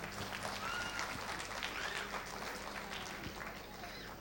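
Faint, steady applause from an audience welcoming a speaker to the stage, a soft continuous patter of clapping heard from a distance with no voices over it.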